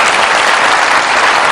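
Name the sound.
audience applause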